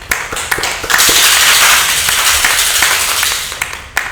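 A small audience at a podcast recording applauds, starting with a few scattered sharp claps, swelling into a brief dense round, then thinning back to isolated loud claps close by.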